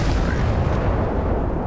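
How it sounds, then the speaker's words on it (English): A missile fired from a ship in the Starfield video game, a loud, dense blast and roar that fills the whole stretch without a break, no talking. "That little missile is very useful."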